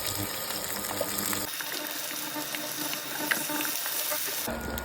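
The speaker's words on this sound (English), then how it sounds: "Now I am going to flip and fry this side for 1 more minute." Seer fish slices shallow fry in a pan of hot oil, a steady, dense sizzle that carries on unbroken throughout, close and fairly loud with no voices.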